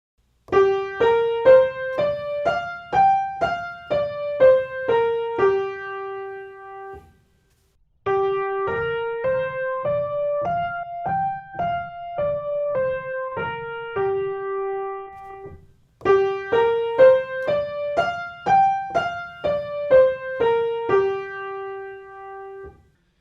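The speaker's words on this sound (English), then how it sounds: "let's try a new scale called the pentatonic scale." A five-note pentatonic scale played three times, each run climbing and then falling back, on a single clear, close instrument with short separate notes and pauses between the runs. No talking.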